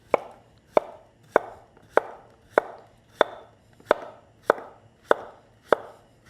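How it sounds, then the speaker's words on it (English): A knife slices a cucumber into thin rings on a board in a steady, even rhythm, about ten crisp cuts, close and clear with no talking. "I'm just going to cut these into thin 1/4 inch rings."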